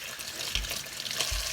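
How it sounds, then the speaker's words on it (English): Cold tap water runs steadily over cooked pork feet being rinsed in a sink, a close continuous splashing stream with a couple of heavier thuds of handling, no talking. "all I'm going to do is rinse it really good, clean it in a cold water"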